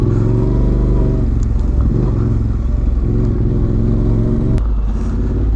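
An ADV motorcycle crawls along a rough mountain road in Benguet, its engine chugging loudly and steadily up close. There are small surges in revs and a sharp knock near the end, with no speech.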